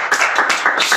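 Studio audience applause on a Slovak game show, a dense burst of clapping from many hands that swells in short waves across one second, steady and fairly loud with no talk over it.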